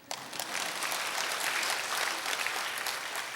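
Audience applause at a Korean church revival lecture, a dense sustained clapping from a large crowd that fills the whole stretch at steady loudness, without speech.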